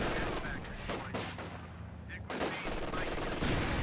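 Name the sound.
gunfire in Company of Heroes 2 video game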